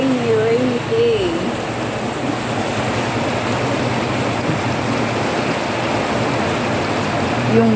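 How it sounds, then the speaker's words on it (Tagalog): Steady heavy rain from a storm pours down in a constant dense roar, with a voice speaking briefly over it near the start. "ang lakas po ng ulan"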